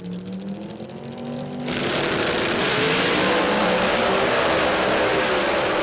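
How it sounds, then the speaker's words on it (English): Turbo and blower Outlaw Pro Mod drag race cars sit idling, then launch hard together into a loud sustained roar at an outdoor drag strip that overwhelms everything from close range. "Turbo versus Blower, Wiseco Outlaw Pro Mod,"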